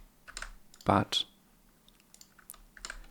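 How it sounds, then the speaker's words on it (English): Computer keyboard typing while a programmer loads image data for a skeletal animation project: a few quiet scattered key clicks around one loud burst of strokes near the middle, with a single brief spoken word. "there is a fair bit of typing"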